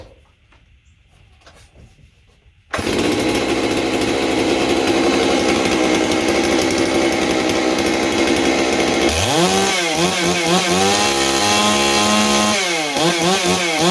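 A Holzforma G660 chainsaw, an MS660 clone fitted with an Egan straight-shot muffler, fires up after quiet handling and roars at a loud steady idle, then revs up and down in repeated throttle blips.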